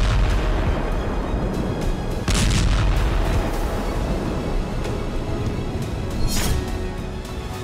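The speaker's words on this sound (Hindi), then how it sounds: "ये रूस की इस्कंदर मिसाइलों से होने वाले धमाके हैं" Explosions from Russian Iskander missile strikes on a Ukrainian position in wartime, heavy rumbling booms over a continuous roar, with a sharper blast partway through.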